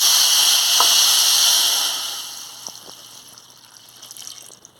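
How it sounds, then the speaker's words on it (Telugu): Hot water being poured over dried anchovies in a cooking pot, a bright, hissing pour that starts strong and fades away over a few seconds, heard close. "నీళ్ళు కాగిపోయినాయి. ఈ వేడి నీళ్ళని"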